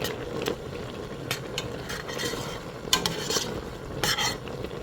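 A spoon stirs a thick okra sauce in a cooking pot, giving a steady scraping, sloshing churn with sharp clinks against the pot at irregular moments under a light sizzle; no one talks.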